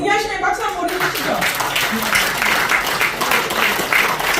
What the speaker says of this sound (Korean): 동의하시면 박수 한번 보내주시죠